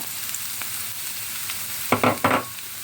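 Carrots for green borscht sizzle softly in a frying pan, a faint steady hiss broken by a few louder bursts of stirring or scraping near the end.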